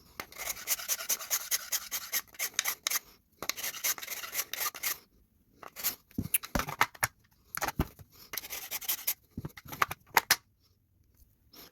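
A file works the locking lug of an AK magazine, taking metal off in bursts of short rasping strokes separated by brief pauses, close and crisp with no talking.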